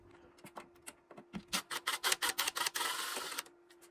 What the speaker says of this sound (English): Okay, so I have my drill here.